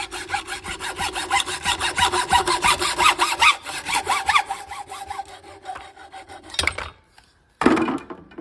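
A hand saw cutting through 1/2-inch PVC pipe on a workbench, a quick run of rhythmic rasping strokes close up that slows and fades, followed by a couple of brief knocks.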